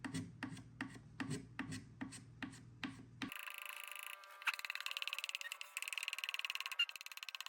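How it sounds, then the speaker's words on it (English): A pocket scraper rasps old finish off the edge of a wooden furniture piece in about eight steady, evenly spaced strokes, then switches to a faster, finer run of short scraping strokes, close up with no talking. "I'm going to try a little pocket scraper that I'm going to use just to get these edges"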